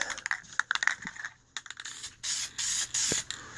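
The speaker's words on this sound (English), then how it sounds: "First coat, just do a test spray on something, anything." Spray paint being test-sprayed while tinting taillights: several short hissing bursts, then longer steady sprays close to the can, with light clicks and handling noises between them.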